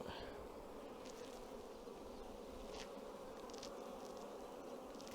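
A dense, steady buzz of many honey bees at a hive with honey supers fills the clip, continuous and close, with no talking.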